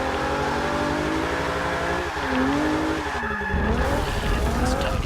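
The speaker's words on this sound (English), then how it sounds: "that's actually the first time I've dropped into second gear to drift this car" A Honda S2000 with a drift build slides through a track corner in the racing game Forza 6. Its tires squeal long and loud over the wailing engine, and the pitch shifts as the car changes gear.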